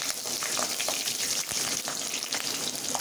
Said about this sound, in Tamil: பூண்டை போட்டுட்டு வெங்காயம் கருவேப்பிலை இதையும் போட்டு அதிலே வதக்கணும்